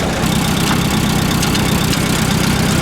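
An old, worn farm tractor engine idles steadily and loudly up close, a low rumbling chug with a constant vibrating rhythm and no talking.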